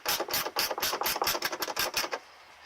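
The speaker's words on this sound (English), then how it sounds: "Right now I'm just loosening the bolts that hold on the rear fender well cover." A rapid, even ratcheting of a wrench loosening bolts on the rear fender well interior cover of a 1987 Nissan 300ZX. Roughly a dozen close, sharp clicks run in a steady burst, then stop.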